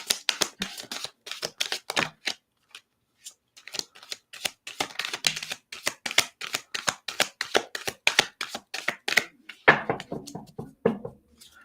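Cards are shuffled near the microphone in a long run of rapid riffling bursts and taps with short pauses, the deck handled repeatedly at a close, steady pace.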